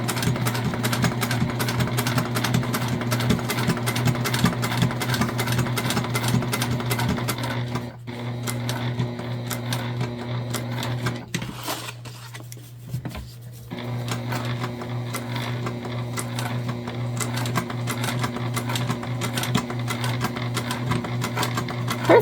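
Sewing machine running steadily and close for a new Zora shoulder bag, a loud continuous motor whir with rapid needle ticking that dips briefly twice before resuming.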